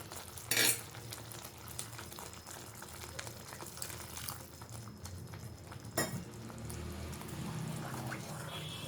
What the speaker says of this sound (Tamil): போட்டு நல்லா கலந்து விடணும்.